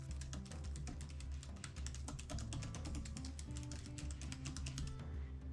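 Rapid, steady typing on a MacBook Air 2020 keyboard, close and clear, with dense clicking keystrokes running throughout over a faint background hum.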